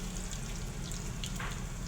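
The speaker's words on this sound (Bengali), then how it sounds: "প্যানে তেল দিলাম 3 টেবিল চামচ, দিয়ে কাঁচামরিচ পেঁয়াজ একটু হালকা করে ভেজে নিয়ে আস্তে জিরা দিয়ে দিলাম" Green chilies, onion and cumin fry in oil in a pan, giving a steady close crackling sizzle with a few brief stirring sounds over it and no voices.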